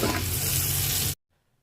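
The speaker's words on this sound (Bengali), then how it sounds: "রসুন বাটাটা আমি ভাজা ভাজা করে নিছি, এখন একটু পানি দিয়ে দিব" Garlic paste frying in a pan sizzles loudly and steadily as a little water is poured in, then cuts off abruptly to near silence.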